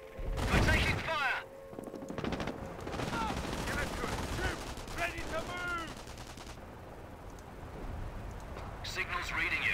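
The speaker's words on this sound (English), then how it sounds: "Contact. We're taking fire." Rapid gunfire bursts and battlefield explosions from the World War II strategy game Company of Heroes, during a British mission, loud at the start and continuing more faintly with distant shots as soldiers' voices call out over the combat.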